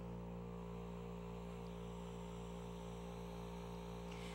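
A microdermabrasion system runs with its suction dial at full and the media turned off, giving a steady, unbroken machine hum with faint hiss that holds level throughout.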